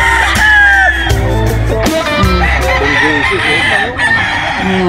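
Red Kelso gamecock roosters at a crowded poultry market crow loudly and cluck close by, with several long rising crows overlapping other birds' calls, and faint chatter from people in the background.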